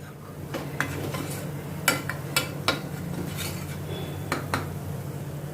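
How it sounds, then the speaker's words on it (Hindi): Spices and onion stirred and roasted together in a pan while cooking chole, with a steady low sizzle beneath scattered scraping clinks of a utensil against the pan. "इन सभी मसालों को अभी मैं अनियन के साथ थोड़ा मैं भूनती हूँ"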